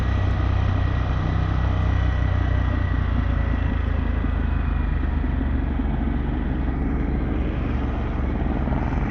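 An Indian Challenger motorcycle fitted with a Vance Hines exhaust rides downhill through curves on Route 9W near Bear Mountain, its engine giving a steady, loud, continuous drone with wind noise throughout.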